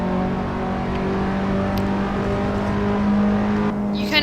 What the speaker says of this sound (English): so you don't get that big high revving revs.